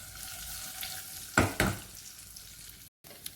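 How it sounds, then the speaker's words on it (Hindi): Semolina dry-roasting on a low flame for halwa, with a soft continuous frying hiss and two sharp scraping stirs of a spoon against the pan near the middle, then quieter stirring to the end. "सूजी का ध्यान रखना है कि ये नीचे लग ना जाए, जल ना जाए, बस हल्के से इसको जो है वो हम लो फ्लेम पर हम इसे भूनेंगे"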